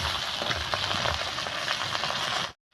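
Bhetki fish head and pieces frying in hot oil until reddened: a close, steady crackling sizzle that runs evenly, then cuts abruptly to silence at the end.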